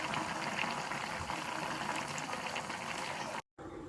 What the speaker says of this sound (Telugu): సో మనం ఇప్పుడు వాటర్ పోసేసుకుందాం.